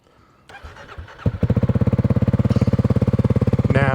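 A Kawasaki KLX 300 with an FMF Q4 exhaust cold-starts after a few cranking clunks, then settles into a loud, close, pulsing idle with a quick rev near the end.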